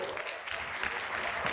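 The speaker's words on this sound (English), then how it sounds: "please let's receive with a clap and a celebration shout" An audience claps steadily at a pharmacists' continuing education conference, welcoming a speaker to the stage; dense, continuous applause.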